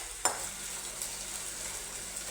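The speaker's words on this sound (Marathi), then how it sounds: "इकडं कांदा मस्तपैकी असा लालसर रंगावर भाजायचा" Onion frying in a pan for chicken curry, a soft continuous sizzle heard close but quiet, with one sharp utensil tap early on and faint stirring scrapes.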